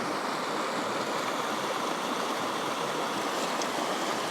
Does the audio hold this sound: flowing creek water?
yes